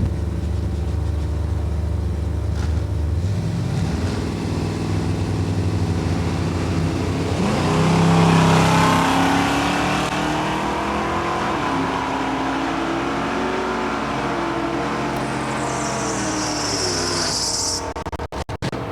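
A 1970 Chevrolet Nova drag racing down the strip at Lucas Oil Raceway, loud engine revving with rising pitch sweeps as it accelerates, swelling midway then holding a sustained roar before cutting off near the end.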